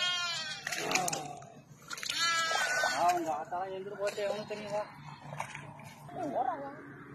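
Goats on a farm bleat repeatedly, close and loud, with several overlapping cries while people talk nearby.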